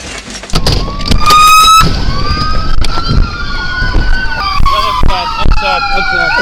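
A Texas police unit's siren wails loud and close with rising and falling tones during a car chase, over road and engine noise, with sharp knocks and brief voices mixed in.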